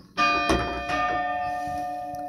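The oldest bell in a church bell tower, dating from 1700 and with a worn clapper, is struck a few times. Each strike rings out with a bright metallic clang and a long, sustained humming decay, and no one speaks.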